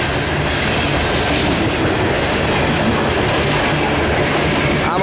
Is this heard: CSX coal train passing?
yes